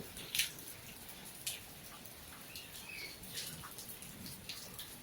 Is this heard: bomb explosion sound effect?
no